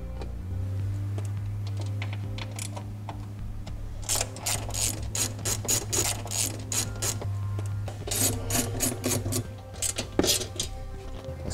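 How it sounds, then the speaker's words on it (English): Ratchet loosening four screws on a battery access panel inside a 2014 Mercedes, a close, quiet series of quick clicking bursts over a steady low hum, with no voices. "we're gonna get access to a battery by loosening up these four screws"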